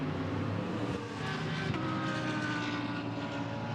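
Audi and Mercedes GT race cars in the Blancpain GT Series Asia at Sepang circuit, heading into turn 1, make a continuous loud engine roar that stays steady throughout with no commentary audible.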